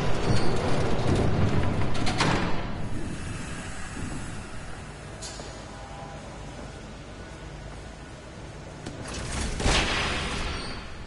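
A train rumbles past in the Batman: The Telltale Series video game, a loud broad rushing roar at first that eases to a steady distant rumble, then swells again near the end, with no talk.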